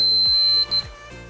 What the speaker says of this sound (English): What we should get is a nice solid beep.